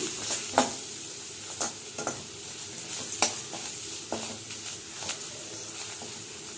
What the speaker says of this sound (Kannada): ಒಂದು ಸ್ಪೂನ್ ಖಾರ ಪುಡಿ ಹಾಕ್ತಾ ಸಾಕು ಒಂದು ಸ್ಪೂನ್ ಸಾಕು ಚೆನ್ನಾಗಿ ಫ್ರೈ ಮಾಡ್ಕೊತೀನಿ